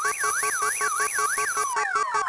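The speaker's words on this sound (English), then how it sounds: "Does everyone ignore your car alarm?" A shrill electronic car alarm in the game You Don't Know Jack wails up and down in quick repeating sweeps, then shifts to a descending tone pattern, loud and continuous.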